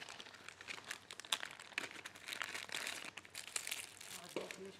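Plastic packaging for a mixed batch of eyeglasses shipped from China crinkles and rustles in quick bursts as it is pulled open, close up and continuous, with talking mixed in.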